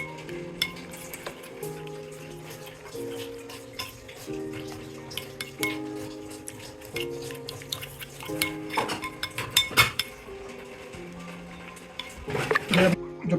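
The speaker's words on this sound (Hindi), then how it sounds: "तो ये अब हम इसको मिक्स करेंगे।" Seasoned chicken is mixed in a bowl, with a spoon scraping and clinking against the bowl in irregular bursts that grow busier over soft background music.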